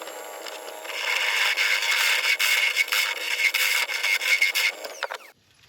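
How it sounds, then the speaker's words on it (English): A carbide turning tool shears across a spinning oak burl on a woodturning lathe while a singing box is being shaped, giving a steady, loud, hissing scrape with rough fluctuations for about five seconds before cutting off abruptly. "I'm just going to get the carbide in there and just flatten it off a bit."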